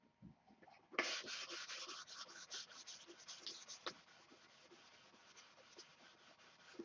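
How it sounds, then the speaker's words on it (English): Hand sanding of a model aircraft part during paint prep gives a close, soft rasping scrub that rises suddenly and continues in quiet back-and-forth strokes, fairly faint and alone. "tonight is about another 15 minutes of sanding"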